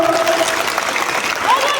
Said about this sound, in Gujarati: તાળીઓ પાડો, તાળીઓ. વચ્ચેથી પાછળથી તાળી પાડો.